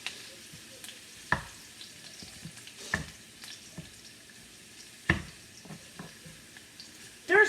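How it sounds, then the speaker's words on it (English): Ingredients sauté in a pan for a homemade sauce, a soft, fairly quiet sizzle with intermittent clinks and scrapes from stirring and a louder knock at the end, with no talking. "you can hear that sizzling. Now you just want to saute it"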